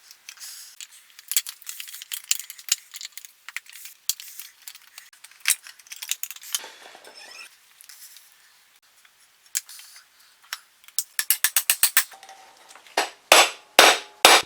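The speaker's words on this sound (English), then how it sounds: "I'm using a dull, almost blunt chisel to pound the old bearing housing off the steering stem" Sharp metallic clinks from a blunt chisel hammered against an old steering-stem bearing housing on a 1999 Yamaha YZ250, light taps at first, then a rapid run of loud, close strikes near the end.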